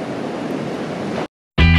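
Ocean waves break at Lacanau beach in France as a steady broadband wash of surf with wind, then cut to silence before a brief burst of another loud sound.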